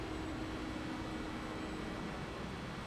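Onboard engine sound of a Cadillac CTS-VR race car running at a Daytona-style superspeedway, a loud, steady drone with constant broadband rumble and no change in pitch across about three seconds, with no one speaking.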